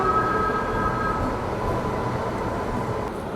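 A train at Ratnagiri railway station, a steady loud rumble of rolling wheels and carriages with a faint high whine early on, continuous and close, without voices.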